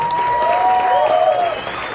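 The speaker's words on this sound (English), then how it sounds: "Nice round of applause." Audience applause after a big band performance, a steady wash of clapping with a sustained tone ringing through it, loud and close, without talk.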